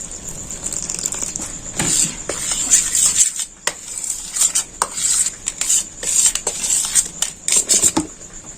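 A spoon clatters and scrapes against a bowl while potato finger batter is mixed, a quick irregular run of close metallic clinks and wet stirring strokes, sounding alone.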